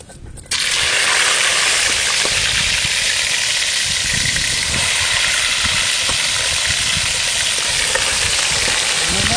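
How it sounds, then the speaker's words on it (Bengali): Fish fry in hot oil in a pan, a loud, constant sizzle that bursts in suddenly at the start and then holds steady and close, with a soft bubbling hiss underneath. "তেল গরম হয়ে গিয়েছে, এবার মাছগুলোকে ভেজে নেবো"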